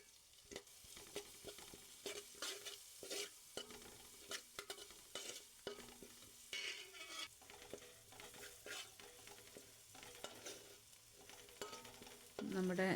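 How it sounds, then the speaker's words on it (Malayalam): Chillies fry in hot oil in a pan for a Kerala banana flower and green gram thoran, with a steady sizzle broken by frequent scraping and stirring knocks of a spoon against the pan, close and without talk. "നമ്മുടെ മുളകൊക്കെ മൂത്ത് വന്ന് തുടങ്ങിയിട്ടുണ്ട്."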